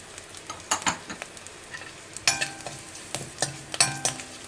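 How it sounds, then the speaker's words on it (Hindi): Dry curry leaves and chillies roast in a pan for a homemade murmura namkeen, giving a soft sizzle broken by scattered stirring scrapes and crackles that swell toward the end, with no voices. "इसको भी अच्छे से भून लेंगे जब तक इसका मॉइस्चर चला जाए"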